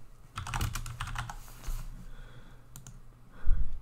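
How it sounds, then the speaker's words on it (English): Someone types a note on a computer keyboard in quick bursts of close, crisp key clicks, pausing briefly before a final louder cluster of keystrokes. "And then you can type."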